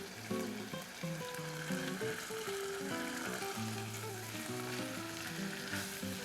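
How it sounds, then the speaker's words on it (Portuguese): Pork chop searing in a pan, steady loud sizzling and crackling of hot fat throughout, with background music playing underneath and no talk. "Agora nós estamos só no processo de refogar ela dos dois lados"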